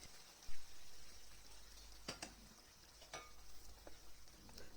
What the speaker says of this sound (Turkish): Aynı bardak ölçüsüyle 5 ee, su bardağı kaynar su ekliyorum.